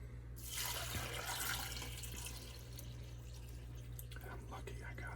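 Salt brine of about 2 tablespoons salt per cup of water poured into a pickle jar, a steady close liquid rush that fills most of the clip and thins out toward the end, with a low hum underneath.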